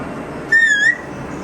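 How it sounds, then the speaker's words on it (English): A person whistles a single short, steady tone lasting under half a second, close and clear against a quiet room. "Can you whistle?"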